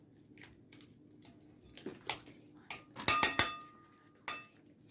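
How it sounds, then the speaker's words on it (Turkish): A spoon stirs ingredients for kandil simit in a bowl, with sparse scraping, then a quick burst of bright clinks against the bowl and a final tap. Nobody speaks. "Önce bunları biraz karıştırayım"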